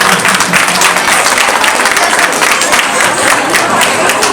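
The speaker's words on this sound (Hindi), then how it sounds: "तालियां बजती रहनी चाहिए।" Audience applause at a dance academy felicitation ceremony in Mumbai: dense, steady clapping that fills the whole stretch at close, loud level, with a few voices mixed in.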